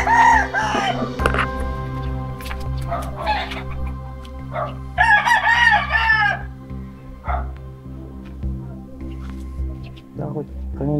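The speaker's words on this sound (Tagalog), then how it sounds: "Kanino kaya itong tandang nito?" A rooster crows in bursts near a house at night, with lights on, calling over ongoing talk and a steady background hum.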